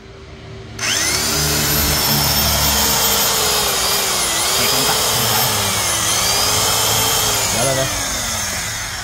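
A Hitachi power tool, offered as scrap, runs steadily and loudly with a high whining motor tone and shifting pitch, starting abruptly after a brief quiet moment and continuing throughout.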